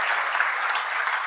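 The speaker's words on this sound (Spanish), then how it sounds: "Si va a aplaudir a Jesús, hágalo con fuerza" Church congregation breaks into dense, continuous applause, a bright, even wash of many hands clapping at once that stays loud and steady throughout, with no talk breaking through.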